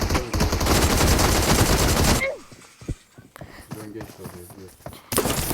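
Rapid automatic gunfire in the mobile battle-royale game PUBG Mobile, a dense loud burst for about two seconds, then quieter in-game sounds with someone talking, and another burst at the end.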